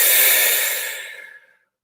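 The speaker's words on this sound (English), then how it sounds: "take a nice, quick, forceful, deep, breath out" A forceful, deep breath pushed out during a vocal warm-up: one loud, close, hissing exhale that trails off over about a second and a half before silence.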